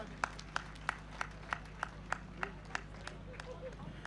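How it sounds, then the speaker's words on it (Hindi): A crowd at a Mahavir Jayanti poetry gathering gives quiet, evenly spaced rhythmic claps, roughly three per second, heard faintly from a distance over a low background hum. "तालियां बजती रहनी चाहिए।"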